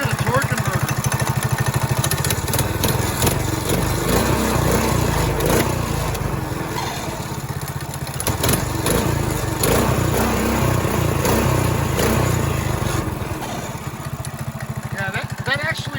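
Coleman BT200x mini bike engine with stage one upgrades running steadily close by, a continuous buzzing drone that dips slightly near the end, with voices talking over it.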